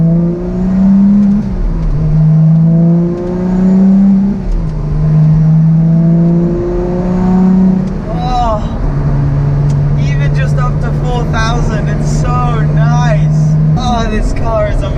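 A Lotus Exige Sport 380 cruising on the motorway, engine droning loud and close from inside the cabin, its pitch rising and stepping down through gear changes before settling into a steady hum, with someone talking over it.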